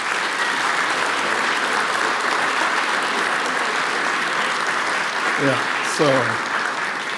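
A crowd at the Tyler Prize ceremony gives a sustained round of applause for Rosina, a long-serving committee member. The dense, even clapping runs throughout, and a voice speaks briefly near the end.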